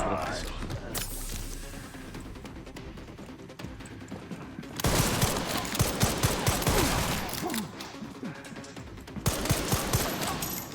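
Rapid bursts of gunfire from enemy soldiers in Resident Evil 9 crackle in loud clusters, thickest in the second half, with a player talking over the shooting.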